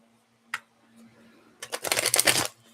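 A single tap, then a loud, rapid riffle of tarot cards being shuffled close by, lasting about a second before stopping.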